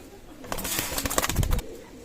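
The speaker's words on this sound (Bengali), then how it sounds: "চমৎকার গোল্ডেন কবুতর" Golden pigeons at a pigeon loft cooing and fluttering, a short burst of soft calls with wing flaps swelling in the middle before fading, fairly close and moderately quiet, with no voices.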